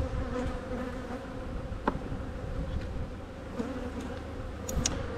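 Honeybees buzz steadily around beehive frames during hive work aimed at preventing swarming, a dense continuous drone with a few louder passes close by and no talk.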